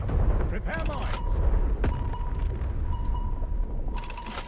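Torpedo launching from the Surcouf submarine in War Thunder Mobile, a sharp thud amid loud rumbling naval battle gunfire and booms, with game voice callouts.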